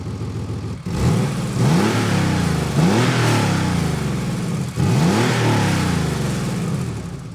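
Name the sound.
Porsche 964 Carrera 4 engine with Fab-Speed exhaust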